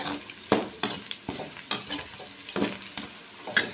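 Ivy gourd (dondakaya) roasts in a pan as a spoon stirs it in repeated scraping strokes about once a second, with a soft, steady sizzle under the clatter and no talking.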